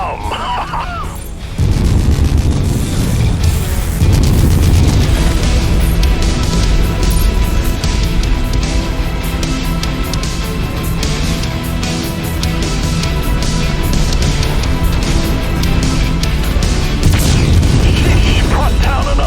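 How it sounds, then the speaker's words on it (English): A mech's ammunition cooks off in a MechWarrior 5 Solaris arena battle: a heavy booming explosion erupts after a short lull, followed by a long, loud, rumbling roar of crashes and bursts that persists throughout. "Wow, that ammo just cooked off."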